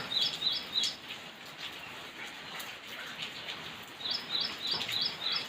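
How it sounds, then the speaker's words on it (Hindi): Two small birds chirp in short bright bursts while steady rain patters softly all around them, with the calls clustering at the start and again near the end. "ये देखिए 2 पंछी"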